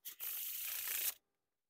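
Bicycle Unicorn playing cards run through a Pharaoh shuffle, a steady papery rubbing and riffling rush lasting about a second after a brief opening flick, close and fairly quiet, with no voices.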